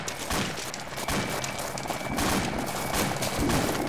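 Gunfire in Arma 2 cracks out as repeated bursts and single shots at close to middle distance, forming an uneven barrage that carries on through the whole stretch.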